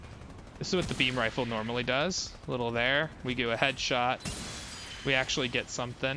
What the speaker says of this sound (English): This is what the beam rifle normally does.